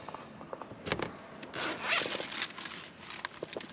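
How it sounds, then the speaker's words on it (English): A pouch being slowly unzipped and opened, a close, rasping zipper pull in a few short strokes with a longer drawn-out stretch in the middle. "Let's open this pouch up slowly"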